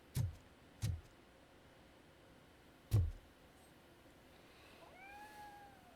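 A cat in the video game RoboCop: Rogue City gives a couple of short, thin meows toward the end. Before that come three loud, heavy thuds and a low background hum.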